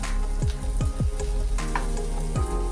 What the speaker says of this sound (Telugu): మామూలుగా ఇలా వేగితే చాలండి పచ్చిమిరపకాయలు